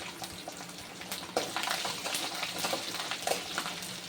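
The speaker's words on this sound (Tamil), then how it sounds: "இப்போ பூண்டை கொட்டிக்கலாம்" Garlic cloves poured into a hot pan with dried chillies and spices, giving a steady wet sizzle that swells when the cloves land and carries light scattered clatter; no voices.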